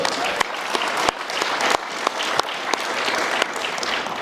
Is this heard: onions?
no